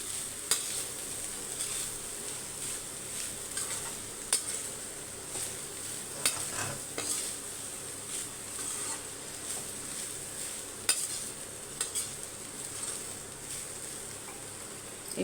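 Egg vegetable fried rice is stirred in a hot pan, with a low continuous sizzle and repeated scraping and clinking of a spoon against metal at an uneven, unhurried pace.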